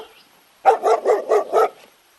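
A dog barks five times in quick succession after a brief silence, close and loud.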